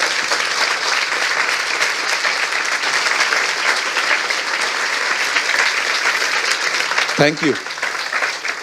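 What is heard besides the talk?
congregation applause at church service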